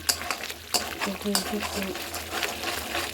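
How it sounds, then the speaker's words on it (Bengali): Homemade ghee being stirred continuously in a pan, with bubbling sizzle and scraping strokes of a spoon against the pan bottom in a close, busy rhythm. "এই সময় ক্রমাগত নাড়তে থাকতে হবে যাতে তলাটা ধরে নেবে"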